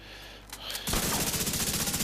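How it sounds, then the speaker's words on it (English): An exotic weapon in The Division 2 lets loose sustained rapid automatic fire, a loud, dense stream of shots running without pause after a brief lead-in of game sounds. "a couple of rounds into both the head and body of this target just to show you the DPS side of it"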